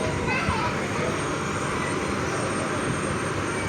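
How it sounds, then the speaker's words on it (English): Kenya Airways Embraer 190 jet at Kamuzu International Airport, a steady loud broadband engine roar filling the whole stretch without letup, close by on the apron. "So this is Kenya Airways Embraer 190 from Nairobi, from Jomo Kenyatta International Airport, Nairobi."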